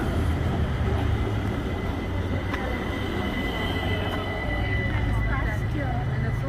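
A train rolling past a level crossing in Bregenz, Austria, a steady close rumble of wheels on rails with faint squeals throughout, while someone talks over it.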